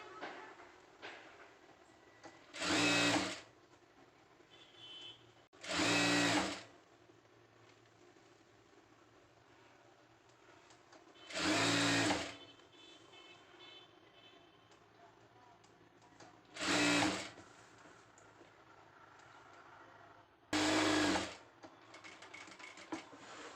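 A sewing machine stitches the side seam of a straight-cut pant in five short, loud bursts spread across the stretch. Quieter pauses fall between the runs, with faint talking in the gaps.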